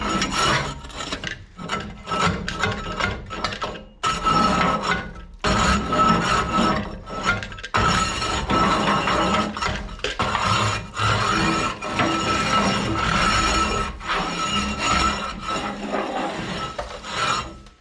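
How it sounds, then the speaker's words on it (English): A metal scraper rasps creosote off the inner walls of an outdoor wood boiler in loud, close, repeated strokes with brief pauses between, an uneven scratching rhythm with no talking. "Just scraping some of the creosote off that's stuck to the walls."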